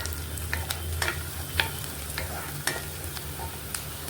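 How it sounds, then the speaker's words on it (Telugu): Onions frying in a pan for gongura curry, a steady sizzle broken by repeated sharp scraping stirs at an uneven pace, close and moderately loud. "మనకి ఆనియన్స్ ఫ్రై అవుతున్నాయి కదండి"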